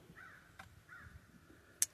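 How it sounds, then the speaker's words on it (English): Crows caw twice in the distance, faint harsh calls over quiet outdoor ambience on a riverside while digging for carnelian, followed by a single sharp click. "Can you hear the crows in the background?"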